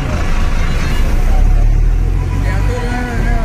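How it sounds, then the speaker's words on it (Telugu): An APSRTC bus pulls away from Tenali bus station with a loud, close engine rumble that rises slightly midway, while voices talk over it. "గాజులంక తిప్పలకట్ట బస్సు 6 గంటలకు బయలుదేరింది"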